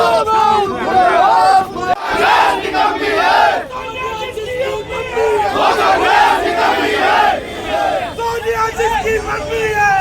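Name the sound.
crowd chanting political protest slogans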